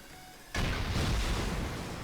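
A sudden loud blast hits half a second in, followed by a sustained rumbling roar, a rocket fired while raiding a base in the game Rust.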